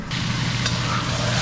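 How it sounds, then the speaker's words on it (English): Seasoning for chicken curry sizzles steadily in a hot pan, a close, continuous frying hiss with no talking. "Seasoning, sizzling there"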